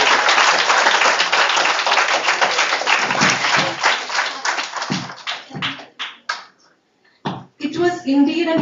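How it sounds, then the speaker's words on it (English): Audience clapping at a mental wellness club inauguration: dense, loud applause for about five seconds, then thinning into scattered claps, a brief silence, and a final short burst of clapping. "Please give a big round of applause to our sir."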